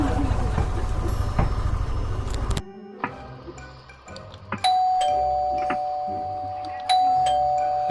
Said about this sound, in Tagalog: Ano pala, may doorbell pala to.